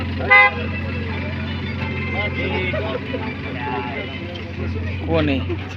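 Vehicles, including trucks, pass along a road and a horn toots loudly at the start. Traffic rumble continues underneath while people talk over it.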